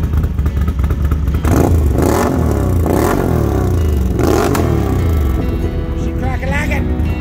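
A 2021 Can-Am Renegade XMR 1000R ATV fitted with an SLG quiet core exhaust runs with a steady, muffled engine drone and a few rising revs, close by, with people talking over it at times.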